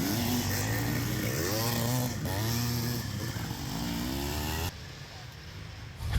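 Vintage motocross bikes, Yamaha ITs and Hondas, at a vintage cross-country race: engines revving and buzzing up and down in pitch nearby, loud and continuous, then dropping to a quieter idle.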